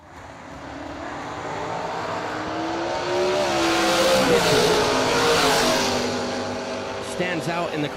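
A drag race launch featuring a winged Ultra Tech dragster and a black-on-yellow 1969 Camaro, engines roaring and swelling in a loud, sustained, rising drone while an announcer talks over it.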